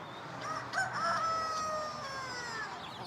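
A rooster crows among chickens at a roadside stall, a faint drawn-out call over a quiet outdoor background, with no talk during it.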